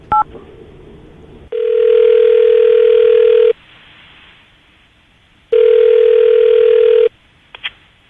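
A telephone ringback tone on a radio show call sounds as two long steady beeps separated by silence, loud and clean, with a brief click at the start and small clicks near the end.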